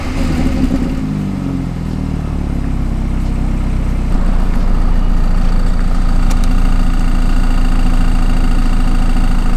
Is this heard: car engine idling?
yes